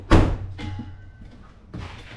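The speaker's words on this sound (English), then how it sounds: "Close this door too." Car door on a 2004-2008 Acura TL or Honda Accord shut nearby with one loud thud, followed by a softer second knock and a later muffled bump.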